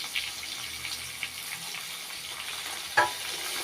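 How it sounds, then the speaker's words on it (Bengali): Cumin seeds frying in hot oil in a home kitchen pan for a fish curry, a soft steady sizzle with faint crackles and one sharper clatter near the end, no voices. "এরপর এটাকে ভেজে নিতে হবে একটু, যাতে একেবারে পুড়ে না যায়।"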